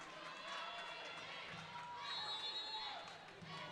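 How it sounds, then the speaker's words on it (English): Crowd noise from spectators at a college volleyball tournament match, a broad steady murmur with rising cheers and shouts, heard under continuous play-by-play commentary. "Crowd trying to get the Quakers back into this to stop the bleeding."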